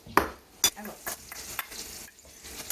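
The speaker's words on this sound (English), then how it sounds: "Now that it's all stirred up, we're going to mix it with the apples so it'll make it kind of a apple pie filling." A spoon stirs apple pie filling in a bowl for apple pie bites made with crescent rolls, giving a few sharp, close scrapes and clinks against the bowl, with no talking.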